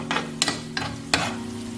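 Onions frying and being stirred in oil in a pan while preparing onion hair oil, a steady close sizzle with a few sharp stirring scrapes, with no talk.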